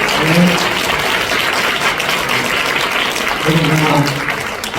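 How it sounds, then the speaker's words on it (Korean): Congregation applauding after a sermon at a church thanksgiving service for a short-term mission report, sustained clapping from many people, with faint voices mixed in underneath. "큰 박수 한번 할까요?"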